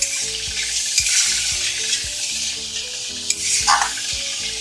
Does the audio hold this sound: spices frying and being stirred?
yes